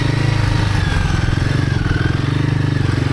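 A Royal Enfield Himalayan 450 motorcycle's engine drones steadily up close while riding a sandy singletrack trail in Michigan, a continuous throbbing rumble with rapid pulsing and no voices.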